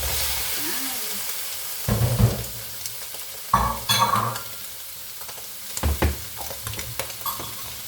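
Fried rice with garlic, onion and prawns sizzles in a pan with loud intermittent bursts of frying and stirring scrapes over a steady hiss, close up, with a voice speaking briefly.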